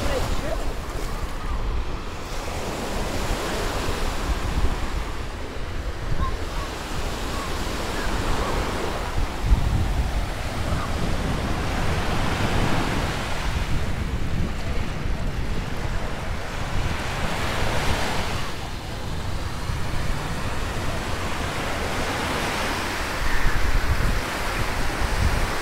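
Ocean surf rolls onto Miami Beach in continuous washing swells, loud and close, with wind buffeting the microphone throughout.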